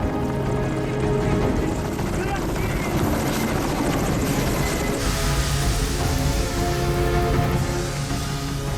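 A firefighting helicopter's rotor thrums steadily and loudly throughout, a continuous chopping roar that stays close, over a forest fire in the DMZ.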